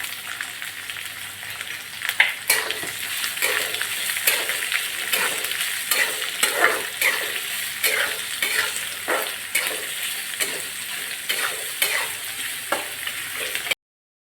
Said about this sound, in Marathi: तर आता कांदा टाकूया आणि दहा बऱ्या मिरच्या टाकून घेऊयात